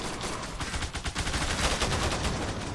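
Rapid gunfire from a pistol in the Zula online shooter, a dense, steady stream of crackling shots filling the whole moment at fairly even loudness, with no voices over it.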